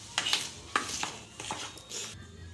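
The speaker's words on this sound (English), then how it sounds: "Mix the dry ingredients all together." Dry pancake ingredients such as flour, baking powder and salt get stirred in a bowl, with a few distinct scraping and clinking strokes of a utensil against the bowl, fairly close and quiet.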